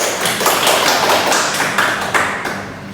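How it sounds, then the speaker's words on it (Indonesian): Classroom applause during a microteaching physics lesson, a short burst of hand claps that rises and fades over a few seconds, with no talking. "beri aplaus untuk Fuzi."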